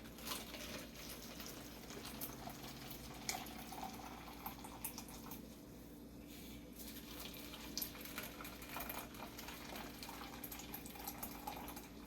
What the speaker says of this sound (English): And next, we're going to fill it with boiling water.